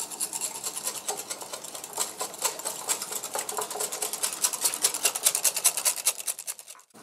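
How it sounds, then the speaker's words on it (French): A sugar mixture with vanilla extract is whisked briskly in a bowl, a fast, rhythmic scraping and clicking that carries on for about seven seconds at close range. "on va commencer à fouetter le tout pour dissoudre le sucre"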